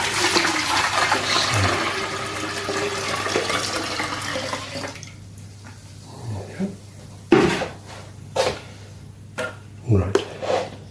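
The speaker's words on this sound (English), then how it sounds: "I'm going to add some more water to fill the canister up." Water is poured into an aquarium canister filter, a steady splashing fill that gives way to sporadic knocks and sloshes, with quiet stretches between.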